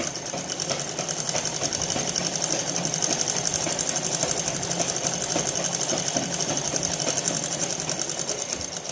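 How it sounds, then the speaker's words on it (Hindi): A sewing machine runs steadily while stitching a tucked blouse, giving a fast, even mechanical chatter with a constant whirring hum throughout, close and fairly loud, with no talking. "अब इसके ऊपर एक मशीन और चला दीजिए यहाँ पे ऐसे करके"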